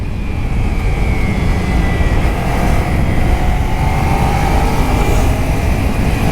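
Kawasaki Ninja 300 motorcycle ridden through corners on bias-ply tyres, a loud continuous engine drone with wind rush and a gently shifting pitch, steady throughout with no speech.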